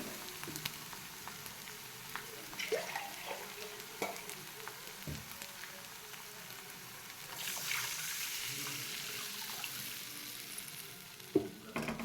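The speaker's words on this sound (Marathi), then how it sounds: "आता यामध्ये पाणी टाकते मी" Water poured into a pan of green chilli pithla on the stove, a soft hiss and splash rising over quiet frying and stirring noises, close but fairly faint, with a sharp knock near the end.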